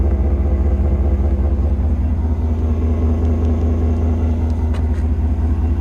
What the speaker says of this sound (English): I love the sound of this exhaust.